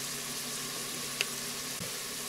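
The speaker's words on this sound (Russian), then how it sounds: "Морковка с луком жарится." Carrot, onion and chicken fry in a multicooker on the pilaf setting, making a steady, moderate sizzle with one brief clink of a utensil partway through and no talking.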